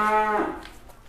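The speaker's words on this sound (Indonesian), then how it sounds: "sapi unik." A cow gives a single short, close moo that fades quickly into faint background noise.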